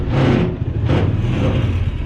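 A 2002 John Deere Gator utility vehicle's small engine idles steadily up close, a continuous low rumble with two brief swells in intensity, no voices present.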